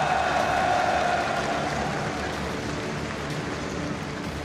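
Dense, steady applause from a large arena crowd at a League of Legends MSI 2018 semi-final esports match in Paris, a continuous roaring wash of claps holding level throughout.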